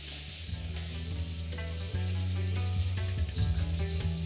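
Chicken pieces fry in hot oil with a steady crackling sizzle, bursts of spitting pops over a humming background, close and moderately loud.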